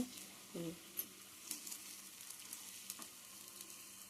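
Sweet paniyaram fry in a pan, a faint, quiet sizzle with a few soft scattered taps and clicks, heard alone without speech.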